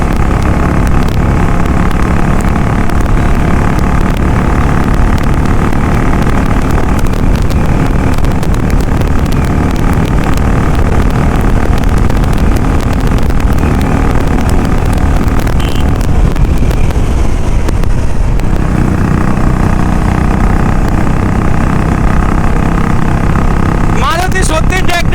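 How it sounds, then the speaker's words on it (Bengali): A Maruti car engine roars in a road drag race, a loud continuous rumble heavily buffeted by wind noise, with the pitch shifting near the end. "মারুতি সত্যি ড্র্যাগ রেস করছে ভাই।"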